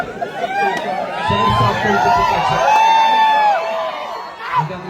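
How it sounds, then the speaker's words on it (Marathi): Spectators at a kabaddi semi-final match in Palande cheer and whoop in a loud, swelling roar that rises and falls, with a commentator talking over the crowd. "क्रीडारसिकांचा जल्लोष यावेळेला आपल्याला ऐकायला मिळतो."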